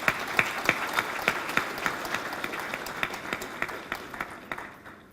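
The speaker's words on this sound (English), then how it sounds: "Let's once again give a round of applause for the doyen." An audience applauds at a Nigerian taxation profession event honouring a revered senior figure: sustained, dense clapping from a crowd, steady and moderately close, gradually thinning and fading toward the end.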